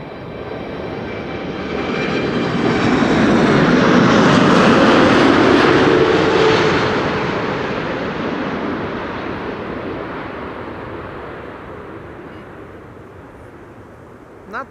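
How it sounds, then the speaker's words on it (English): A Boeing 747 lands on the Kaagbaan runway at Amsterdam Schiphol, its broad engine roar swelling over the first seconds, holding loud and near, then slowly fading away as the jet rolls past. "Third queen of the show landing here on the Kaagbaan"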